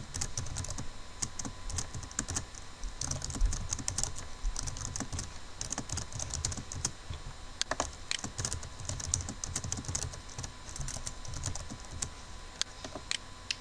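HTML code being typed on a computer keyboard: a steady, rapid patter of close keystrokes throughout, with no speech.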